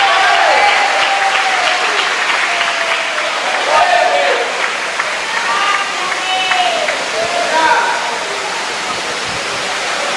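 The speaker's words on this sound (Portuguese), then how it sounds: "Aplauda Jesus Cristo" A church congregation at a morning worship service applauds, a loud continuous roar of clapping with overlapping voices and cheers rising through it.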